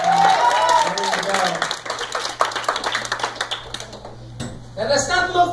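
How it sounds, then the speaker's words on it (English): A church congregation claps together during a worship service, the crisp, busy clapping swelling loudly in the middle while voices are heard at the start and again at the end. "Can we give God a big clap offering?"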